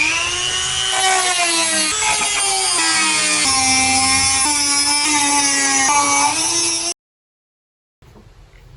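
Power tool cutting off protruding bolts near wood on a solar install, a loud continuous high whine with shifting pitch for about seven seconds, then stopping abruptly before faint background noise returns.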